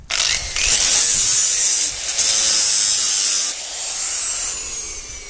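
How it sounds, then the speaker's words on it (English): A fibre grinding disc sharpens a 21-inch Toro or Hayter lawn mower blade, giving a loud, steady high-pitched grinding whine that dips briefly and then tails off, close up with no talk. "So we give it a quick sharpen and balance. Use the old fibre disc here now"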